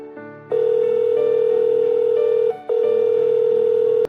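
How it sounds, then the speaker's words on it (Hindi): A phone call is dialed, giving a loud, steady electronic tone held for about two seconds, a brief break, then the tone again, with no voices. "करुणा ने सुबोध को फोन मिलाया।"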